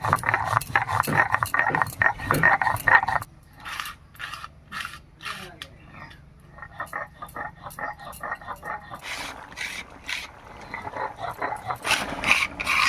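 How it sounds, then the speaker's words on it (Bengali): Radhuni seeds ground into a paste on a grinding stone in a home kitchen, heard as repeated rhythmic scraping and rubbing strokes, close and fairly loud, with brief quieter pauses. "এই ফাঁকে আমি একটু রাঁধুনি বেটে নিচ্ছি"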